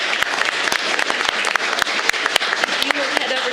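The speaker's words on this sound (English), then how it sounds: "could we give this group another round of applause" An audience at a county board of education meeting applauds a group, continuous clapping with sharp individual claps standing out nearby and a little background chatter.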